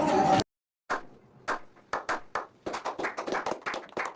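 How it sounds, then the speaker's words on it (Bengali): A small wedding-eve gathering breaks into applause after a short opening burst and pause, first with scattered separate claps and then a denser, quick round of clapping from several hands nearby. "তার জন্য একটা জোরে হাততালি"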